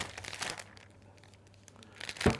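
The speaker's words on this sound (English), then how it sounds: "So I can then cut my cellophane off" Cellophane wrap being cut and crinkled for a hand-tied pink rose bouquet, soft rustling near the start and a sharper crackle toward the end, close and quiet with no talk.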